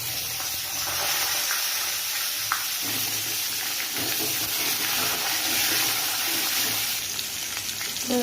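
Cut potatoes fry in hot oil with bay leaf and dried red chillies, giving a steady, close sizzling hiss with a few faint clinks and stirs.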